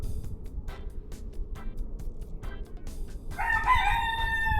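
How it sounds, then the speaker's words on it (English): A rooster crows loudly and nearby in rural Jamaica, one long drawn-out call near the end, after a few short clucks over steady outdoor background noise. "At least the rooster's excited."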